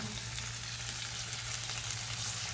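Steady close-up sizzle of a hot pan of Sicilian creamy rice as broth is poured in, with a constant bubbling hiss and faint stirring throughout.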